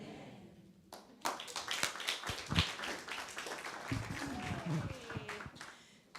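Audience applause at a 2022 Governance Internship Program convocation: dense, steady clapping from a crowd that carries through the whole stretch at moderate level, with voices mixed in.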